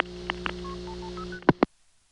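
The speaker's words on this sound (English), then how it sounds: "the Stromberg ESC, in its typical fashion, is only letting me hear one tone out of the two that make up those three digits" Multifrequency tones dialed by a Stromberg ESC telephone switch on a 1982 Florida line, a quick run of short single-pitch beeps over a steady hum, then two louder bursts and an abrupt drop to near silence.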